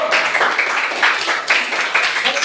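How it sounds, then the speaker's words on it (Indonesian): Classroom applause for group one, a dense burst of many hands clapping together for a couple of seconds, loud and close, without talk. "tepuk tangan dulu untuk kelompok satu"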